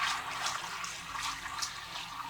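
Water is poured into an E3 ECoS water remediation system, making a steady, moderately loud splashing rush that continues without pause.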